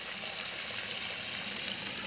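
Water from a newly drilled well pipe gushes in a steady, continuous rush, close and fairly loud, with no talk.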